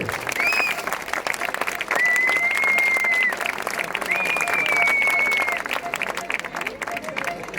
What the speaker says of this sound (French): 8e maillot en FFC pour Perrine Clausel, avec à nouveau les applaudissements s'il vous plaît.